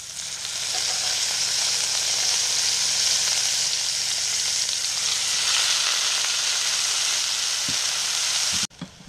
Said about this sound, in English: take out your pheasant breasts piece by piece and just sear it off in the hot pan